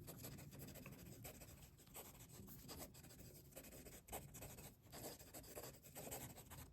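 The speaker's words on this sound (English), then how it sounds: "Fast writing." A Sheaffer Legacy fountain pen is written fast across paper, giving a quiet, close, continuous scratchy rasp of nib strokes with brief lifts between words.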